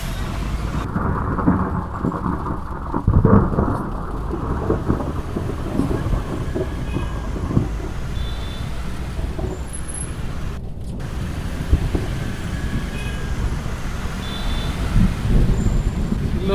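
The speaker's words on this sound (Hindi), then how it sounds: "बारिश तो तेज़ स्टार्ट हो गई है" Heavy rain pours down in Hanoi with low thunder rumbling, a dense steady roar of water close by with traffic passing and brief faint voices.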